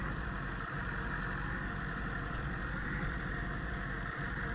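The tractor engine of an IMT in Farming Simulator 19 runs steadily during forestry work, a constant mid-to-low engine drone with a faint whine on top and no talk.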